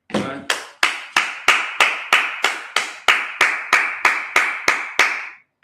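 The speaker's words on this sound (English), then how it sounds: "clap it up" A congregation at a Sabbath service claps in a steady, evenly spaced rhythm of about thirteen loud, sharp claps, with no talking over them.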